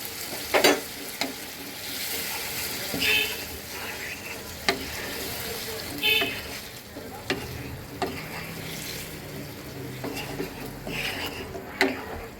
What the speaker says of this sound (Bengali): আমি একটু নেড়ে দিলাম